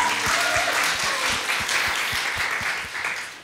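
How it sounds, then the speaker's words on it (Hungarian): An audience at a Friday evening church gathering gives a big round of applause, dense sustained clapping from many hands, loud and close, fading slightly at the end. "Egy nagy tapsot"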